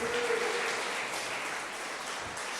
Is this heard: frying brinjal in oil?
no